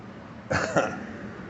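Two quick, harsh coughs close to the mic from a person who has been coughing for days and has lost their voice, the second slightly weaker, followed by quiet.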